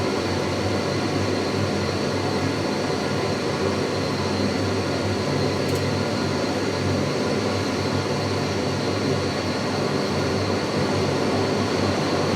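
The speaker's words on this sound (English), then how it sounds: "let's see if the actual blower itself kicks on" A furnace blower, just converted from natural gas to LP, runs as a steady broadband whoosh of moving air with a low hum, loud and continuous throughout with no speech.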